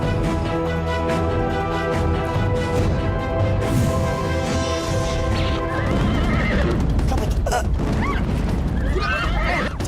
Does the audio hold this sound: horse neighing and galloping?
yes